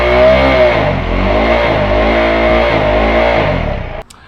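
A KTM 390 Adventure single-cylinder motorcycle with a cheap slip-on exhaust revs loudly and steadily, the engine note climbing and dipping for about four seconds before cutting off abruptly.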